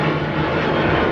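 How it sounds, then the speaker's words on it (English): Airplanes passing overhead on a vacation trip, a steady broadband engine roar with a low hum, constant in level throughout, no talk. "planes going over."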